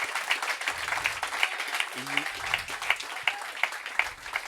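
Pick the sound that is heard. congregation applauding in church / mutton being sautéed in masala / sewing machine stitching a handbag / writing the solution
congregation applauding in church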